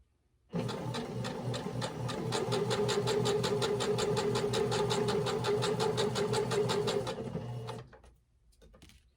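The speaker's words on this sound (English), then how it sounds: "And I'm just going to stitch all the way around." A sewing machine runs steadily for about seven seconds, stitching a seam around a fabric napkin ring with a fast, even rhythm of needle strokes, close and loud, then stops.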